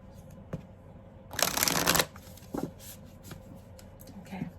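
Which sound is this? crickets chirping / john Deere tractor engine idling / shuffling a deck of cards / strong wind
shuffling a deck of cards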